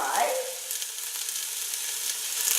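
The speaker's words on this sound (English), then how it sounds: "And I'm gonna give these onions a bit of a fry." Onions sizzle gently in olive oil in a cast iron Dutch oven, a soft, even hiss that stays faint and steady after a brief clatter at the start.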